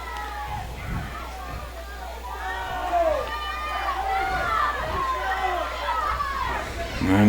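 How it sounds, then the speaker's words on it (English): Rowdy crowd noise at a boys high school soccer sectional between Caston and Winamac, a steady hubbub of shouting and chatter with scattered kids' voices and cries rising and falling throughout, with commentary talk on top. "And the crowd's getting a little rowdy."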